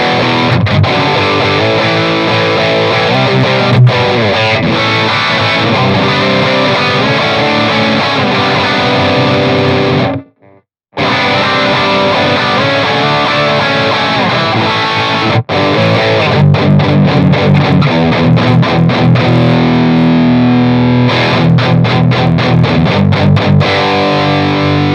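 Loud, saturated metal guitar through the Audio Assault Crown amp sim with 6L6 power tubes. Sustained, thick riffing is broken by one brief silence partway through, then resumes with rapid palm-muted staccato chugs.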